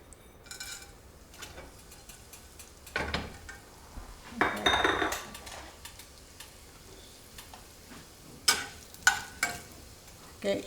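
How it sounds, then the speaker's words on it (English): Crushed red pepper and cumin frying in hot oil, a faint crackling sizzle broken by intermittent clatters of a spoon against the pot. "we have hot oil. The first thing we do is we add the crushed red pepper and the cumin"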